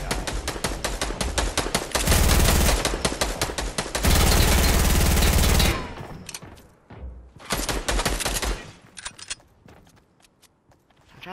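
Rapid video game shooter gunfire in loud sustained automatic bursts with short gaps, dropping to scattered shots and quieter mechanical clatter near the end.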